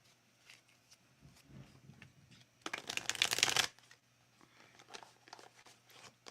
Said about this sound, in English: my lovely little card shuffling ritual